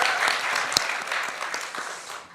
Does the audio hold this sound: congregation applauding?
yes